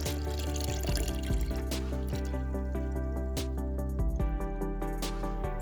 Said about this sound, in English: it's time to pour our juice in our juice container